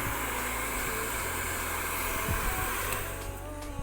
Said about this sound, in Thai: เป่าเป่าให้มันร้อนก่อนแล้วค่อยเช็ดทีหลังนะครับ